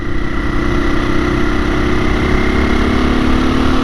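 An uncorked 2021 KTM 500 EXC-F single-cylinder engine runs at a steady low idle, close and loud, with an even, unchanging throb.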